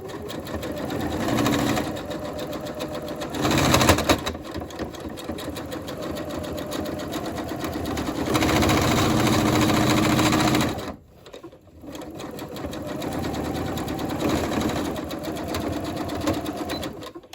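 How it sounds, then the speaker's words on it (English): A sewing machine stitches a fleece cap, a close, steady mechanical whir running in long bursts with a brief pause near the end before it starts up again. "Once you're done stitching the top"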